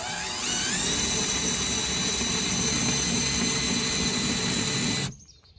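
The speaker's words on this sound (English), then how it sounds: "Next thing you want to do is use your counter sink bit." Power drill with a countersink bit boring into a workpiece during a jon boat modification, a steady high whine with rising pitch that runs about five seconds and then cuts off abruptly, close and loud.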